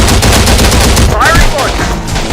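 Loud, continuous video-game combat: dense overlapping gunfire and launcher blasts from the Terminator Dark Fate Defiance battlefield, with brief shouted voice callouts mixed in.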